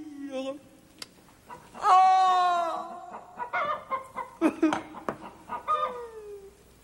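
A hen clucking in a 1987 French children's puppet show, with short, choppy clucks and a drawn-out squawk mixed among voices talking nearby.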